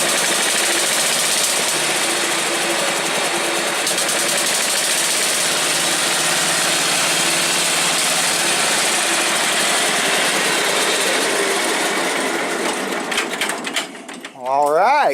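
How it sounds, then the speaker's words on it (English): A car engine cranks on a Schumacher 1000 peak amp portable jump pack, producing a steady loud churning whir that holds for several seconds, then stumbles and catches near the end. "it'll crank and start that"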